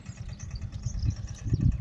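A motorcycle engine runs steadily close by, a low rumbling idle on a village pond embankment, its throb rising slightly toward the end with no talking.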